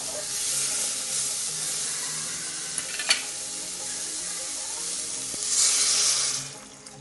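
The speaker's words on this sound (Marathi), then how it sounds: "आता यामध्ये मी पाणी टाकते" Water poured into a hot pan while cooking oats khichdi sets off a steady hiss and sizzle, rising into a louder, brighter surge near the end before fading, with no voices.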